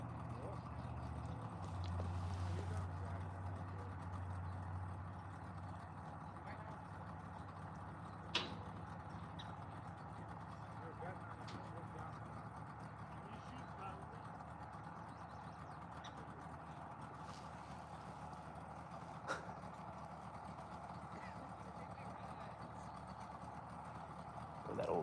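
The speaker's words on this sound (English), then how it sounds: "That old two-stroke over there is just smoking." An old two-stroke outboard engine idling at a distance on the water during a carp and catfish outing, a low, faint, steady drone throughout with a couple of small knocks nearby.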